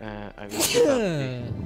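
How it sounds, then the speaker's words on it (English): A person sneezes once, loudly and close by, during a tabletop game of Lord of the Rings Risk, with speech heard just before and right after the sneeze. "Gesundheit."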